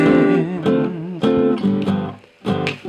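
Jazz guitar plays a chord melody, with several struck chords in a loose rhythm, each ringing briefly before the next; close and clear, with no talking.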